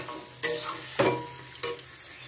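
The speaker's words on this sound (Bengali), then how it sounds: "চিকেনটাকে আমি এবারে খুব ভালো করে কষাতে থাকবো।" Marinated chicken pieces being stirred and fried in a pan, a low steady sizzle punctuated by several distinct scraping strokes of a spoon against the pan, close and with no talking.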